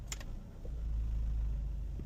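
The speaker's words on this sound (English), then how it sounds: "So if we go into reverse, do you hear how we're getting that bad vibration?" A 2004 Toyota Matrix shifted into reverse with worn motor mounts gives off a steady, heavy low-frequency rumble and drone from the engine, with a brief light metallic jingle near the start.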